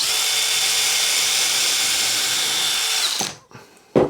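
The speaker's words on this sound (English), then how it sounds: "Just drill those through a little bit further." A power drill driving screws into wood whirs steadily at high speed for about three seconds, then stops, followed by a brief final burst.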